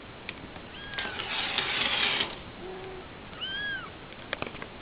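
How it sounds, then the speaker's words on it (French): A young kitten lets out several thin, high meows, a couple of short cries followed by a longer rising one, heard alone over a soft background hiss. "Il miaule beaucoup."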